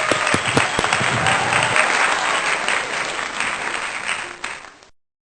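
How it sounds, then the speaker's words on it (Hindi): Congregation applause during a Sunday worship service, loud sustained clapping with a few sharp claps near the start, then thinning and fading into silence before the end. "तालियां।"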